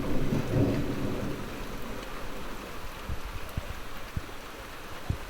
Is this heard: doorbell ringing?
no